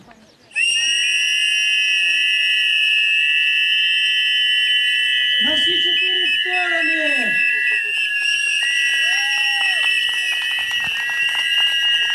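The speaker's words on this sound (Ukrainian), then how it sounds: "Тому я пропоную всім вам дружно засвистіти, щоб вся нечисть зникло з цього гончарського нашого майдану." A crowd whistles together in a potters' square at the festive opening of an art symposium, a loud, sustained shrill chorus of steady tones that holds for the whole clip, with a voice briefly calling out midway.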